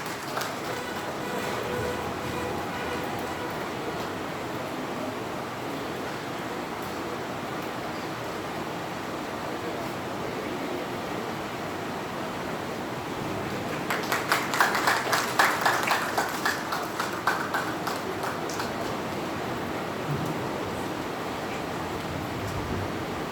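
An audience at a yoga institute event in Kolkata gives a guest on stage a short burst of clapping that rises out of quiet room noise partway through, then fades back down.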